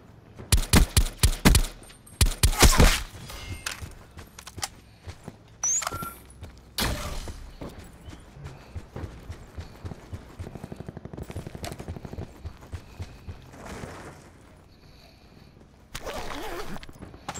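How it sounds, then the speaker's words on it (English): Rapid bursts of video game gunfire crack close and loud in the opening seconds, then give way to scattered quieter shots, footstep-like clatter and background game noise, with a few renewed bursts near the end. "Where are you shooting me from, buddy?"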